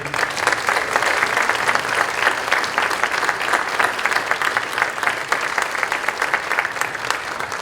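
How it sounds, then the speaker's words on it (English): Sustained applause from a concert audience at a university campus event, steady and dense throughout with no talk over it. "can we give a huge a round of applause for all those folks that have made this happen?"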